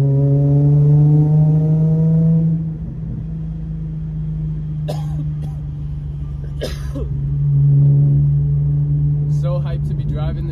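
An Infiniti G35 car drives through the Bronx with a steady low engine hum throughout, brief scraping and rustling noises above it partway through.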